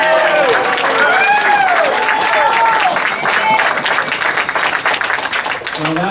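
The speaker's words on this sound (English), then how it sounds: "can we have some applause?" Loud, dense applause from a large audience, sustained throughout, with a few whoops and cheers rising above the clapping.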